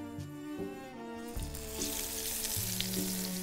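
Meat sizzles in a hot pan, the hiss swelling as the trimmed pieces go down, with a few soft clanks over steady background music.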